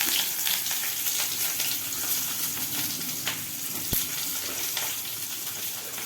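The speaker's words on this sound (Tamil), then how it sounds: "இப்போ இந்த வெங்காயத்தை வதக்க போகிறோம்" Onions sautéing in hot oil on a stove for samosa filling give a steady, close, crackling sizzle with faint stirring scrapes and one sharp clink, alone without speech.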